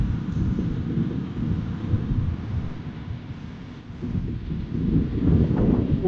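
Strong wind roars continuously against the microphone while cycling into a headwind in Doha, Qatar, a heavy low rumble that swells slightly near the end, with no voices.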